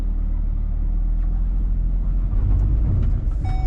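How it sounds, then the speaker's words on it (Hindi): A Hyundai Venue iMT pulls away from a standstill once the brake is released, heard from inside the cabin as a steady low engine and road rumble that builds slightly, with faint higher tones near the end. "ये देखो गाड़ी ने पिकअप कर लिया"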